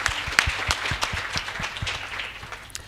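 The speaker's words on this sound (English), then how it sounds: "I think that also deserves a round of applause." Audience applause at a talk on rural development and entrepreneurship, a brief burst of scattered hand claps from a modest crowd, fairly close and fading toward the end.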